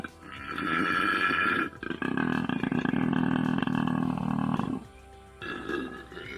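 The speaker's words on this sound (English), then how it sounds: "Some people call it a koala roar." A koala's deep, rattling bellow repeats in long snoring-belching bursts, loud and close, with a brief break and a final shorter burst.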